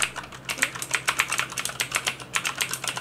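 Rapid, crisp clicky keystrokes on a Corsair K70 LUX RGB mechanical keyboard with blue switches, a fast irregular run of sharp taps heard up close with no talking.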